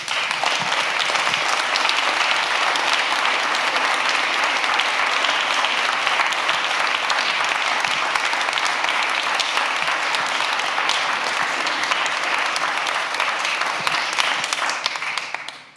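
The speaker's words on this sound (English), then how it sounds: "So that was you applauding for yourself." Dense, sustained audience applause fills a summit hall, loud and steady throughout before tapering off at the very end, with no talking over it.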